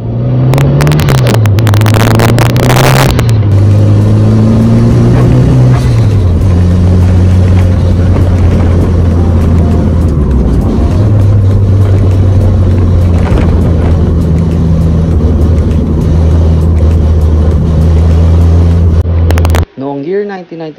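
A loud Mitsubishi Lancer Evolution II engine (1994) rumbles and revs up and down continuously at close range, with the pitch rising and falling over about twenty seconds.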